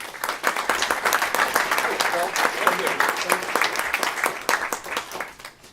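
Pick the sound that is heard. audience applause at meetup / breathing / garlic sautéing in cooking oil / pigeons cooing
audience applause at meetup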